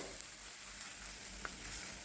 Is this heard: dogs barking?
no